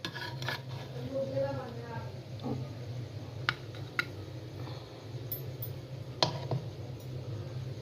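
A serving spoon scrapes and clinks against a dish as zarda sweet rice is dished out, with a few sharp clinks over a soft background hum and a faint voice.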